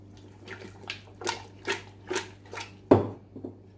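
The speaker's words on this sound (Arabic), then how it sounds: "الماء اللي غادي ندير هاد شويه، ماشي داك الكاس اللي كان فيه الزعفران، غندير هاد شويه فقط صافي" Water is poured into a cooking pot in a series of short splashing gulps, close by, then a sharp clunk near the end and a brief trickle, with no voices.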